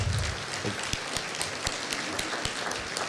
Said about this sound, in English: I don't know why y'all are clapping for me.